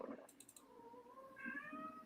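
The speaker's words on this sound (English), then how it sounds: "is that cat in the background?" A cat meows a few times in the background, soft and somewhat distant, the calls rising and drawn out over quiet room noise.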